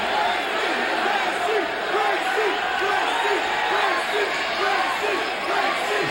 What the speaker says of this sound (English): now the crowd chanting USA again for Dan Severn against the Brazilian Royce